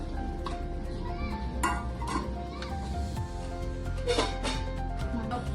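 Rice flour dough stirred in a pot on the stove for ukadiche modak, with soft scraping and clinks of the spoon against the pot over a steady background hum, the motion continuing throughout.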